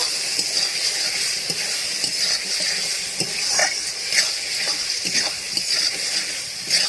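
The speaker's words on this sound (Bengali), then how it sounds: "এবার আলুটা দিয়ে আমি 5 মিনিট ভালো করে কষে নেব।" Fried potatoes being sautéed in spice masala in a pan give a steady close sizzle, with repeated scraping and stirring clinks of a spoon against the pan throughout, no voices.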